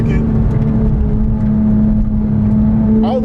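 A 3.8-litre Porsche 911 GT3 of the 997 generation pulling hard, a loud steady engine drone with a strong buzzing tone heard from inside the car, with a voice speaking at the end.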